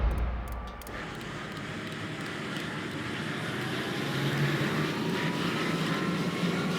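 A 3,000-horsepower turbine engine of a racing thunderboat roars continuously, a loud, steady jet-like whine and rumble that holds for several seconds with no speech.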